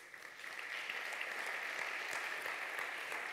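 Congregation in a church applauds together, producing a sustained wash of many hands clapping at moderate distance. It rises quickly and holds steady throughout.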